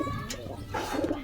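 A pair of Giribaz pigeons in a loft coos softly in a brief, low burble, with faint background noise.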